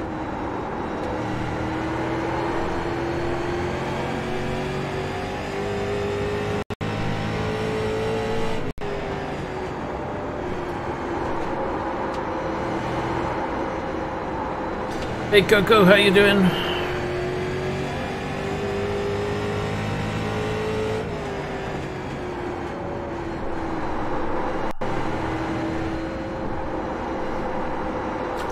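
A street stock car in the iRacing simulator drones steadily with engine hum and shifting pitch throughout, a brief louder clatter midway; someone speaks once briefly over the engine.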